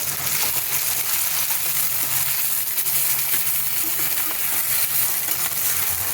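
Ginger-garlic paste and plenty of green chilies sautéing in a pan for a Bengali white chicken dish, a steady close frying sizzle with soft stirring scrapes throughout, no talking.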